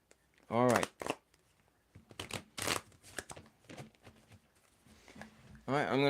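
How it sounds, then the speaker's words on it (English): Tarot cards are shuffled by hand in a few short papery bursts, quiet and close, between stretches of someone talking. "I'm going to start the shuffling process, Modi."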